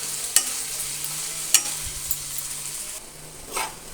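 Ginger garlic paste frying in a pan for chamagada pulusu, a steady sizzle punctuated by a few sharp clinks and scrapes of a stirring spoon against the pan.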